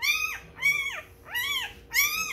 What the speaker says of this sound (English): barking in the background of my videos